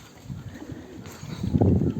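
Pigeons cooing inside a pigeon house, low soft murmuring coos repeating near and close, swelling a little louder toward the end with faint shuffling.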